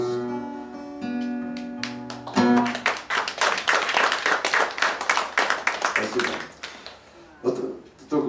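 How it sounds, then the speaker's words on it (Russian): An audience claps at a Russian poetry reading, starting as a few scattered claps and swelling into dense applause that fades, then briefly flares again near the end, with a voice speaking over the start. "Братцы, давайте не будем мне хлопать."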